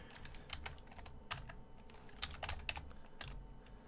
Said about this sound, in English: Man, I cannot type tonight.